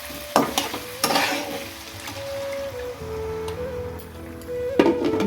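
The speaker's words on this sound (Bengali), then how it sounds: "আলুগুলো ভাজা হয়ে গেলে এবার টমেটো, আদা আর কাঁচা লঙ্কার পেস্টটা এতে দিয়ে দেবো।" Tomato, ginger and green chilli paste frying with potatoes in a pan for aloo dum, a steady sizzle broken by a few sharp stirring clanks and scrapes close by, with no talking.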